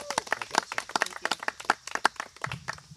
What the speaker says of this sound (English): Another round of applause for Megan.